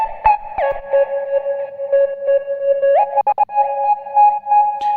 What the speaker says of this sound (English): Too much distortion, and this is making the most of the character of this sound.